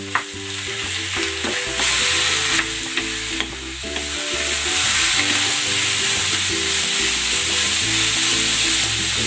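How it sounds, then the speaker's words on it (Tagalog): Beef sizzling and being stirred in a pot with star anise and cinnamon bark for beef pares: a steady loud frying hiss with scraping stirs, over background music. "Ilalagay ko na itong beef."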